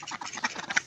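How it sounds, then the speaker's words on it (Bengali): Household ducks quack in a quick burst of several nasal calls, close and clear, under a second long. "আমাদের বাড়ির হাঁস"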